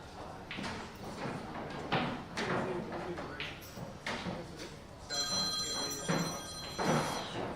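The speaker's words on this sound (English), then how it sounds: "Not the loudest phone ring I think I've ever heard." A telephone rings loudly with a jangling electronic trill in the later part, heard during a seniors singles match at a national tournament, over background room noise and knocks.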